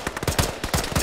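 Automatic gunfire in an Arma combat mission, aimed at a BTR armored vehicle: a quick string of sharp, punchy shots in uneven bursts, close and loud, with no voices over it.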